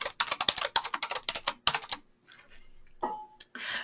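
A library card number is typed on a computer keyboard: a quick run of close, crisp keystrokes for about two seconds, then a few scattered presses after a pause, with no talking.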